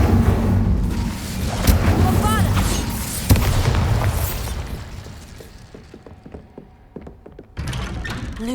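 A Bombarda blasting spell detonating in Hogwarts Legacy: a heavy boom with shattering, thudding debris up close, then a quieter stretch of clatters before another rumbling burst, with voices heard through it.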